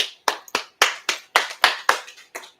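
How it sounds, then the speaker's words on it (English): About nine sharp, evenly spaced hand claps sound close and crisp in a steady rhythm, given by a small audience at a religious gathering in Arkansas. "Y'all give that priest and prophet a powerful hand clap."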